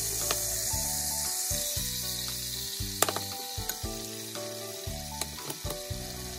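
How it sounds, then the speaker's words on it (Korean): Kimchi fries in a hot pot with tuna oil and a little cooking oil, giving a steady, close sizzle with scattered crackles and small clicks of stirring throughout. "달군 냄비에 참치 기름, 식용유 조금 넣고 김치 볶아주세요."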